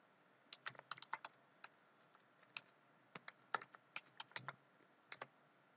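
A Docker command typed on a computer keyboard under Linux: close, crisp key clicks in irregular bursts and short runs, with brief pauses between, and no voices.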